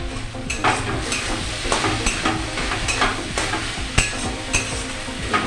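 Taro leaf greens, with sugar added, being stirred and fried in a pan, giving a steady sizzle broken by repeated scraping strokes of a spoon against the pan, close and moderately loud with no talking.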